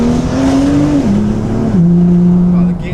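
A BMW M2 with a dual clutch transmission accelerates hard with a loud, close engine roar, its pitch climbing and dropping sharply at quick gear changes, one after another over three seconds.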